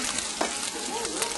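Eggs frying in a hot pan on high heat, giving a dense, continuous close sizzle with a few light stirring scrapes.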